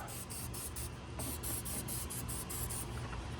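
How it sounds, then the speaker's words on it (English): A steady aerosol hiss sprays in short repeated bursts onto a battery terminal of a 6.0 Powerstroke, close and continuous for a few seconds, with brief pulses in the stream. "Why don't we spray it right now?"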